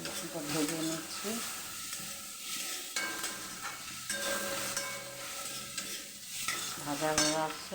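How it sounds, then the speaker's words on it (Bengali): Onions frying in a pan with garlic paste and soy sauce, a continuous close sizzle broken by frequent scraping and clinking stirs, with a voice talking over it. "পেঁয়াজটা ভেজে নিচ্ছি"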